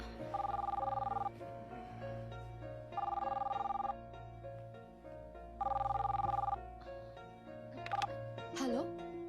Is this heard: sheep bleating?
no